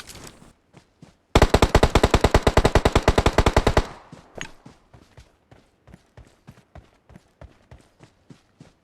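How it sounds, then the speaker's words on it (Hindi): Gunfire in the mobile battle game BGMI, heard as a loud, close, rapid burst of about two and a half seconds, then sparse quieter thuds and taps that continue alone. "मुझे एक बंदा दिख चुका था और मैंने उसको मारना शुरू कर दिया"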